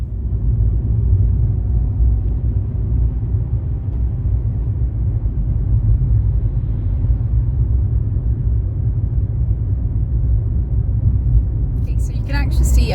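Inside a car on the move during a morning commute, a steady low engine and road rumble runs throughout, with a brief brighter rattle near the end.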